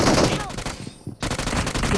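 Gunfire in the mobile battle-royale game Battlegrounds Mobile India: loud, dense bursts of rapid shots, then a brief lull near the middle before heavy firing resumes.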